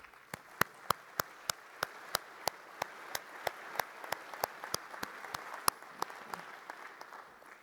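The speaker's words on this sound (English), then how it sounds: "Let's give them all a round of applause." A crowd applauds steadily, with sharp individual claps standing out over a dense wash of clapping that fades slightly toward the end.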